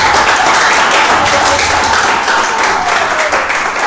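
A church congregation claps and applauds God in sustained, dense applause that fills the space loudly and steadily from start to finish, with a faint voice murmuring beneath.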